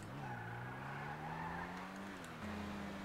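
A car in a video game accelerates and skids, its steady engine drone rising in pitch with tire squeal over it, fairly quiet and continuous, with no talking.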